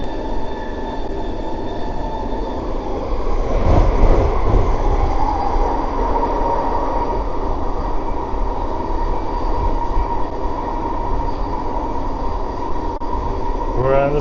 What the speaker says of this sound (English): We're on the SkyTrain.